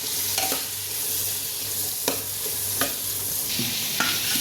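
Spices and asafoetida being stirred and sautéed with bottle gourd pieces in a hot pan: a steady low sizzle with a few sharp scraping clicks of a spoon against the pan, close and alone.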